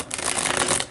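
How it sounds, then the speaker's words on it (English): Emotion cards being pulled and shuffled, a dense papery riffle close by and steady for under a second with no talk. "So let's pull some emotion cards."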